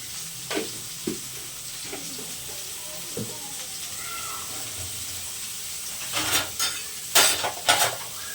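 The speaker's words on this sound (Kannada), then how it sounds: "ಸೈಡ್ನ ಚೆನ್ನಾಗಿ ಫ್ರೈ ಮಾಡ್ತೀನಿ ಈರುಳ್ಳಿ ಜಾಸ್ತಿ ಫ್ರೈ ಮಾಡೋಕೆ ಹೋಗ್ಬೇಡಿ" Onions frying in a pan for bassaru curry give a steady, close sizzle, punctuated by a few soft stirring clinks and a louder burst of crackling near the end.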